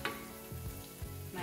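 Garlic hits a hot pan of softened, lightly golden ingredients for a bean dip, sizzling and frying close by with a few soft stirring scrapes.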